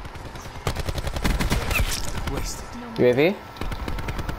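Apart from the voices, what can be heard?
rifle gunfire in the video game Black Ops 4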